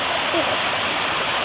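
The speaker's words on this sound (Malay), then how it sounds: "Sekarang kita mandi air terjun sekarang kita mandi air terjun di Telaga 7 Langkawi." Telaga 7 waterfall in Langkawi, Malaysia, a loud, dense, close rush of falling water filling the whole moment without a break.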